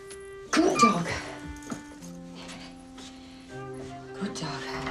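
A dog gives a few sharp yips and short barks in quick bursts near the start, then softer whimpering sounds follow over a steady tonal background.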